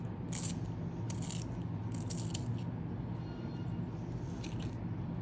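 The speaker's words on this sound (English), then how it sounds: "So this is the sharpener. I'm going to try and sharpen the white so we can use it." White Natraj colour pencil turned in a sharpener, close, soft gritty grinding with several brief crisp clicking bursts over a steady low hiss.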